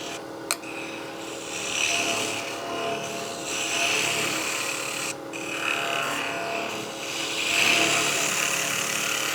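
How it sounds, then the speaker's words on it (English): A spindle gouge cuts a back hollowing pass inside a figured maple box on a wood lathe, a steady rasping, hissing scrape over the whirring spindle, swelling and easing in strokes at close range. "Just a little bit of a back hollowing cut."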